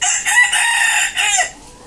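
A rooster crows once, loud and close, a drawn-out harmonic call lasting under two seconds with no voices around it.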